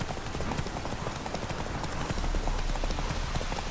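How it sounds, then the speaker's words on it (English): A riderless horse trots in The Witcher 3, its hoofbeats forming a dense, loud, steady clip-clop that fills the whole stretch with no talk. "There's no one riding the horse."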